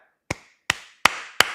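Four sharp, sharply separated hand claps close to the microphone, evenly spaced about a third of a second apart, each with a short decaying tail.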